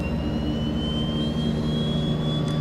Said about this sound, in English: you should see the engine fire up and hear it